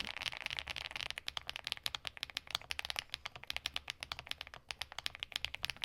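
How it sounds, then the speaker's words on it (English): Keys clack in quick, even succession on a Furycube F75 fully aluminum, gasket-mounted 75% keyboard, close-miked and soft, a dense rhythmic patter with no voices over it. "This is one of my favorite creamy sounding keyboards of 2025."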